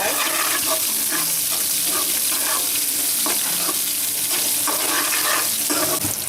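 Onions shallow frying in a pan with salt, a loud, continuous sizzle with crackles and the occasional scrape of stirring, no voices over it.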